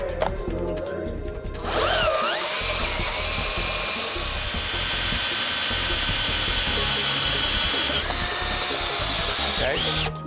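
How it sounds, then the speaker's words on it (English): A hot tapping machine's drill whines steadily as it bores through a metal pipe, a continuous loud grinding drone with a brief pause near the start. "and drill a hole."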